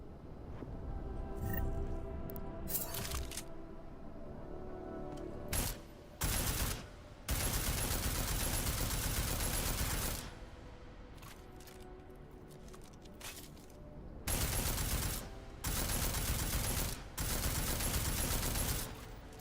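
Bursts of rapid gunfire aimed at targets in the video game Deus Ex, loud and close, arriving in several dense volleys separated by short quieter gaps.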